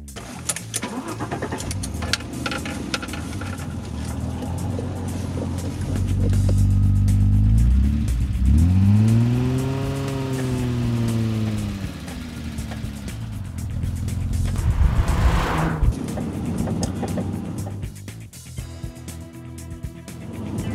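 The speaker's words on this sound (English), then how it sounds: "there's that characteristic tappity sound of the engine that's a constant accompaniment" An Alfa Romeo SZ V6 engine runs steadily while driving, its pitch rising and falling with revs and a light mechanical tapping throughout; no voices.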